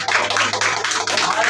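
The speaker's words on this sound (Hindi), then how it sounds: "तालियां बजाएं" A church congregation claps in a dense, continuous wash of applause, steady and fairly loud throughout.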